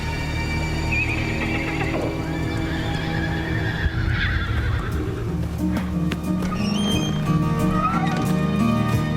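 Several loud neighs and whinnies ring out over clattering hooves, with a burst of hoofbeats and shuffling around the middle and continued horse noise toward the end.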